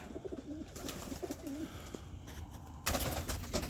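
Pigeons in a breeding loft, a cock and his hen among older cocks, giving soft rolling coos close by, several in a row, then a brief rustle of movement.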